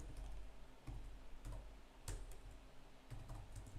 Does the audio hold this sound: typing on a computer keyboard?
yes